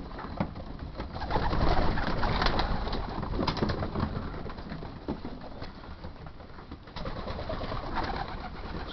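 Young racing pigeons in a loft, several birds cooing and murmuring continuously at close range in low throaty overlapping calls, with no talk.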